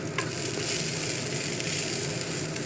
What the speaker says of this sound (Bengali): রসুনটা একটু ভাজা ভাজা হোক।